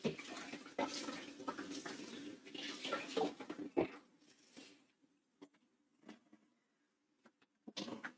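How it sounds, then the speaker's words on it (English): Running tap water pours steadily into a sink while hands are washed in a home kitchen, a close hissing splash that cuts off midway, followed by scattered faint drips and light clatter. "Wash my hands."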